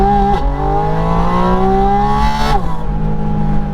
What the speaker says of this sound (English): So all you're getting is mostly induction sound from the engine intake just over my shoulder.